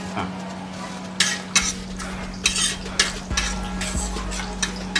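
Ginger and garlic frying in hot coconut oil, stirred with a utensil, with several sharp scraping clinks against the pan over a low steady sizzle and a faint background hum.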